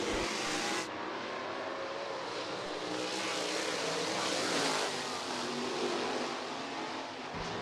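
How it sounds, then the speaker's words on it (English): Heartland Steel 305 sprint cars racing at Rapid Speedway during a heat race, a continuous distant roar of engines droning and revving at steady loudness throughout. "Third and final heat race for the Heartland Steel 305 sprint cars coming to the green"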